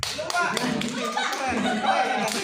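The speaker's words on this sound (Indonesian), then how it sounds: "tepuk tangan dong" An audience claps at a company training session for PT Indorama Ventures, with a brief burst of mixed applause and taps under a noisy room.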